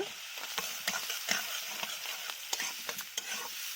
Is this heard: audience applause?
no